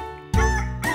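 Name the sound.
rooster crowing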